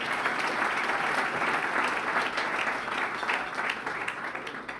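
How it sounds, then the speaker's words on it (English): An audience at a mayors' tribute dinner in Washington, DC claps in a full, steady round of applause, many hands blending into a continuous loud patter that tapers slightly near the end. "let's give Mickey a round of applause for his leadership"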